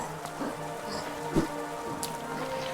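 Steady rain falls in the City of Tears in the Hollow Knight video game, a constant soft patter with a few slightly louder drips and one brief thud, even and unbroken throughout.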